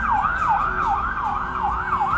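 Ambulance siren wailing continuously on a street, the pitch sweeping up and down in a steady repeating cycle, loud and fairly close over low traffic rumble.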